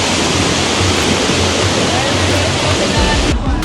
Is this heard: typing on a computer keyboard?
no